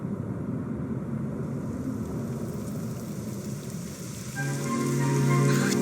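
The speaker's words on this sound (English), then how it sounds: "It would have to go and start raining, wouldn't it?" Steady rain falls in the Dragon Quest XI game world, a dense continuous patter on surfaces throughout. A tonal music swell rises near the end.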